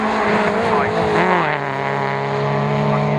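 MG race cars of the MGOC class sweep past trackside at Croft circuit, a loud sustained engine roar with shifting pitch as they go by, with a commentator talking over it.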